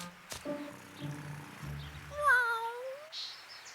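A cat meows loudly, a drawn-out rising and falling cry, after a few soft clunks and shuffling noises nearby.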